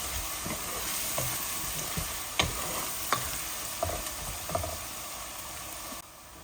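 Garlic frying in a pan for chicken biryani, a steady close sizzle punctuated by sharp scraping taps of a spoon stirring every half second or so, then cutting off.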